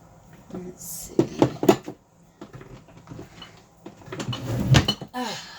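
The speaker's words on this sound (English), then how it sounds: "Oh, that top drawer is heavy." A heavy top dresser drawer is pulled open and pushed shut with a few knocking thumps and a sliding scrape, close by, while a person talks around the sounds.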